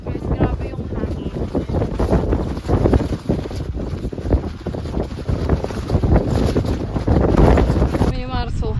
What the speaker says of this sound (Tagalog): Guys, grabe yung hangin.